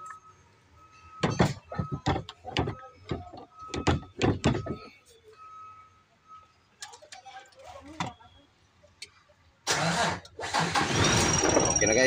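Engine of a repaired vehicle cranking and catching after a few sharp clicks and door-like clunks, then running loudly and steadily, with people talking nearby.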